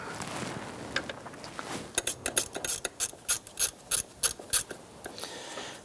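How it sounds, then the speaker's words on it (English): A ratchet with a 13mm socket loosens the power steering pump nuts on a 2005-2007 Ford Five Hundred, giving bursts of quick metallic clicks, about a dozen sharp ratcheting strokes in a row, close and clear. "We're going to use our 13mm socket and ratchet to loosen the 3 nuts securing the power steering pump in place"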